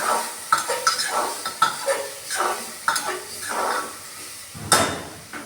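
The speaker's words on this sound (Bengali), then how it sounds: "এগুলো দিয়ে দিলাম উপর থেকে দিলাম দিয়ে আবার একটু নাড়াচাড়া করবো" Boiled potatoes and soybean chunks are stirred in a pan, with repeated scraping and clanking of a spatula against the metal in irregular strokes over a faint sizzle, close and fairly loud.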